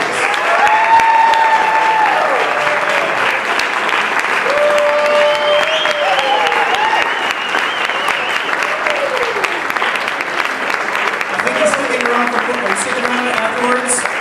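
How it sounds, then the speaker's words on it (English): A meeting audience gives a sustained round of applause for The Babylon Bee's editor-in-chief, loud and continuous many-handed clapping with scattered voices and shouts rising above it. "let's give Kyle a round of applause"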